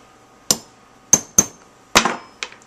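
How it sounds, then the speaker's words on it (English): A metal rivet setter taps a rivet during handmade earring making: five sharp metallic strikes, close and clear, spaced unevenly with a brief ringing decay after each. "Just tap that with the rivet setter."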